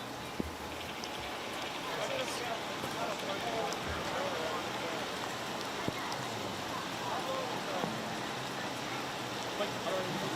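Steady rain patters down at an outdoor ArtPrize 2023 event, an even wash of falling drops with scattered crowd noise underneath.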